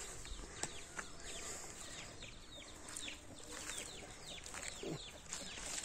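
Chickens on a ranch fill the scene with overlapping bird calls and scattered clucks, steady and fairly faint, with brief rustles mixed in and no one talking.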